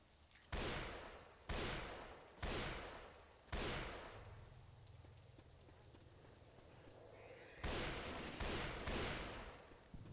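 Video game gunfire, a series of heavy shots with several spaced bursts, then a lull, then more rapid shots near the end, loud and close.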